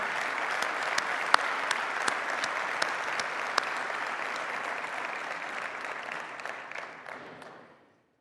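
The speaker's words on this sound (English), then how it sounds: "please give a big applause for everyone I have mentioned just now" An audience at a plenary session applauds, a dense steady wash of clapping with a few sharp close claps, sustained for several seconds before fading out to silence.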